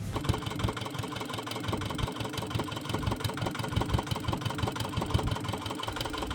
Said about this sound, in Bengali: নৌকোর ইঞ্জিনের আওয়াজে